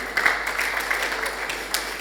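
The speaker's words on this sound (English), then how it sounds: "A round of applause for Amstel Malta." An audience at INNOVENTION 2023, a conference on Africa's creative industry, applauding a sponsor: a short burst of many people clapping, moderately loud and even, with a couple of sharper claps standing out.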